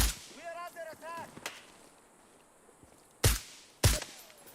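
Two sharp, loud gunshots crack out close together in a video game, following a brief murmur of voice and a quieter stretch.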